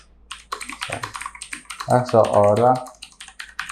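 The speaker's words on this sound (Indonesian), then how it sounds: "aku coba ngetik dulu di notepad ya" Fast clicking keystrokes on a Fantech Atom 104s mechanical keyboard, close and crisp, with someone speaking over part of the typing.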